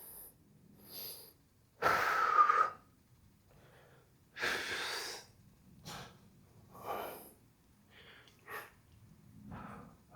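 Heavy, slow breaths during a barbell row workout, each long exhale rasping and close, with quiet gaps between and a few softer puffs of air.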